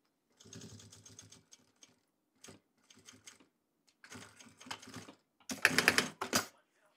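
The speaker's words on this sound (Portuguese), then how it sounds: "Assim facilita para eu costurar aqui." A sewing machine stitches bias binding onto a transparent waterproof travel pouch, running in several short bursts separated by pauses, with the final burst loudest and closest.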